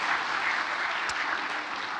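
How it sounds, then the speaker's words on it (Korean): A church congregation applauds during a late-night autumn prayer service, steady dense clapping filling the room at moderate loudness with no talk over it. "무조건 박수 쳐줘요"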